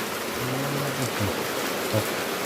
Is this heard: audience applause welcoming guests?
no